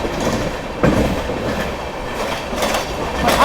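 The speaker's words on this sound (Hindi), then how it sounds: "ये जैसे देख सकते हैं बनारस साइड से आ रही है 20-1-75 बनारस आगरा वंदे भारत एक्सप्रेस" Banaras-Agra Vande Bharat Express train passing close by, a steady rushing roar with rhythmic wheel clatter and brief hissing bursts, no voices.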